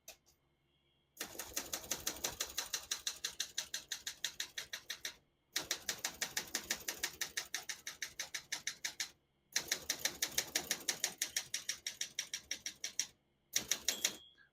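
Typing on a 1978 Olympia SM9 vintage portable typewriter: fast, steady runs of crisp mechanical key strikes close by, broken into three long bursts by short pauses, with a brief final flurry.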